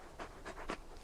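Torgal the dog panting in Final Fantasy XVI: a few quick, soft, breathy huffs in an even rhythm, faint and close.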